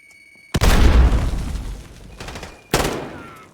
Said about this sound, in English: I can fire extremely fast in 2-round bursts like that